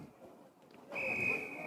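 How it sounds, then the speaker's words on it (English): A referee's whistle blows during an Australian rules junior football match, a single sustained shrill blast that comes in after a quiet moment and holds steady over faint background noise. "Now there is a whistle telling Bradbury to get back on the mark"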